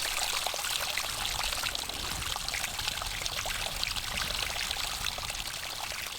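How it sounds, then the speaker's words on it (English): A small waterfall splashes continuously outdoors, a dense, bright hiss of pouring and trickling water at steady loudness, with no voices. "It was pleasant with all that water splashing around"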